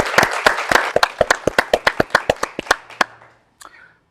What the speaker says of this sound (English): So I'd like to just give a round of applause to them.